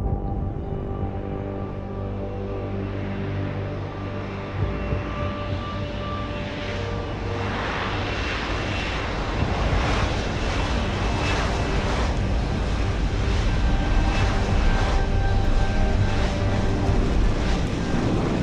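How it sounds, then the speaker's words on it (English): Helicopters in the video game Deus Ex: Human Revolution give a steady engine drone with pulsing rotor beats that swell louder over the second half, heard alone without talk. "those helicopters are really awesome"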